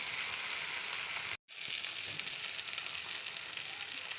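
Dam fish frying in oil in a pan for a spicy fried fish, a steady, dense sizzle that cuts out for a moment, then returns just as strong and close.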